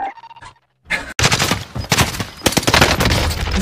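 Call of Duty: Warzone gunfire: after a brief tone and a short silence, loud rapid automatic bursts and shots crackle close up, densely packed for about three seconds.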